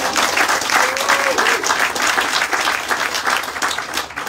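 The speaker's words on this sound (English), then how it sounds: "Let's give Ed another round of applause" A large audience claps steadily at the Maryland Preservation Awards ceremony, a dense, continuous round of applause with no talk over it.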